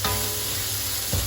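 Garlic and mala spice frying in a hot pan for spicy Sichuan/Hunan-style chicken, a steady close sizzle throughout with a brief louder burst of stirring near the end; no talking.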